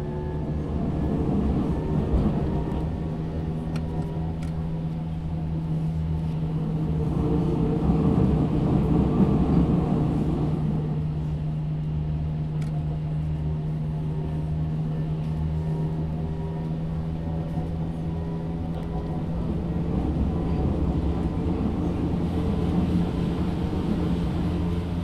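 A subway train running in the Subway Sim Hamburg video game, a steady drone of motor hum and rolling rail noise with a constant low tone, swelling slightly midway, continuous for about 25 seconds, no talk.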